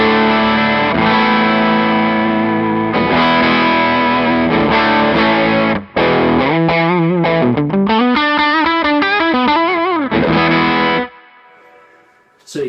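An electric guitar runs through a Majestic overdrive pedal, giving a loud, gritty distorted tone. Sustained chords give way to a quick run of rising and falling notes, then the sound cuts off abruptly and ends in a faint tail.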